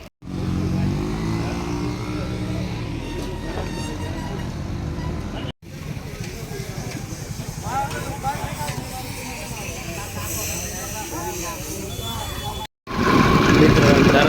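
A motorcycle rides along a road after dark, its engine a steady close drone mixed with wind rush, cutting out briefly twice before resuming louder.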